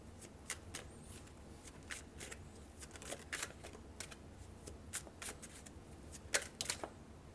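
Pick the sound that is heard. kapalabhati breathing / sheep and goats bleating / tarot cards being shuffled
tarot cards being shuffled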